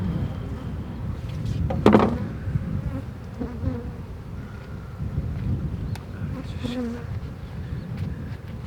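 Bees packed into a hive buzz in a dense, continuous drone. The sound is steady and fairly close, with light wind rumble underneath and a brief louder buzz passing by early on.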